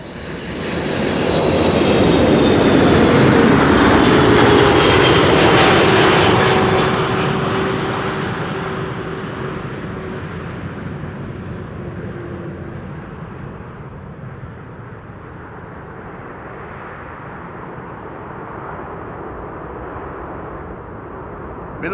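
A KLM Boeing 777-200 airliner passes at Amsterdam Schiphol Airport with a loud, broad jet roar that builds quickly, peaks within seconds with a falling whine, then slowly fades into a lingering distant rumble.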